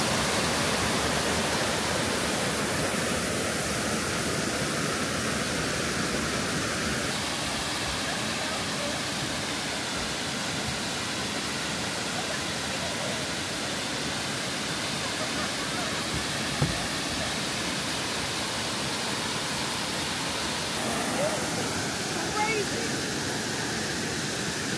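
Steady broadband roar of a waterfall flowing with very clear water in Pennsylvania, constant and close, filling the whole stretch, with people talking over it.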